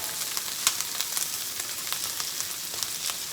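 Salted butter sizzling steadily over vegetables in a hot pan, a close, even hiss dotted with small crackling pops throughout, no voices.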